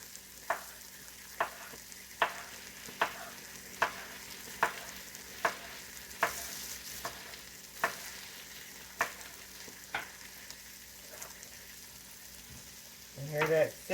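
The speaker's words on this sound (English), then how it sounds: "You hear that sizzling?" Sausage frying in a pot for kale gumbo: a quiet, steady sizzle broken by sharp, regular knocks of a spoon stirring about once a second, ending with a brief louder clatter.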